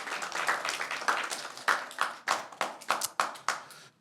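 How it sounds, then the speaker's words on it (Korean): A church congregation claps for a young member during a Korean worship service, scattered applause settling into a few distinct, rhythmic group claps that die away near the end. "우리 도희에게 박수하겠습니다."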